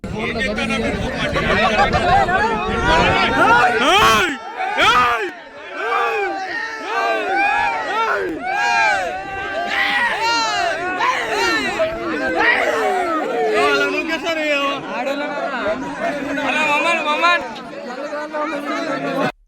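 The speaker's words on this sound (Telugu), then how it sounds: "చూసారా ఎన్నిగానో వాయిస్ వస్తున్నాయో, ఎంత పబ్లిక్ ఉన్నారో" Dense crowd chatter at the Medaram Sammakka Sarakka Jathra festival, a thick babble of many voices with occasional shouts and whoops rising above the steady, loud hubbub.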